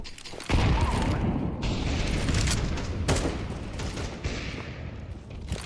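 Grenade blast and gunfire in a competitive first-person shooter match: a sudden loud boom opens, followed by sustained rattling shots and sharp bursts around the middle, dense and close throughout.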